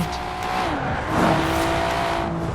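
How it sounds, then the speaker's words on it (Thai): A Nissan Skyline R33 with a blow-off valve drives in the Forza Horizon 4 racing game. The engine note is loud and close, shifting pitch over a short burst with a tire-squeal edge. "เวลาผ่อนคันเร่งมีเสียงโบออฟด้วยนะ"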